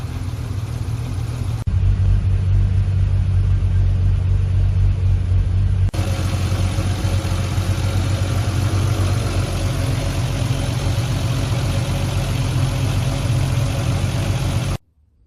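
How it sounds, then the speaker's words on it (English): A Triumph TR6 engine idles steadily while warming to operating temperature, a low, continuous rumble, close by and unchanging, with no one speaking. "run the car for about 5 minutes or so until you get up to normal operating temperature"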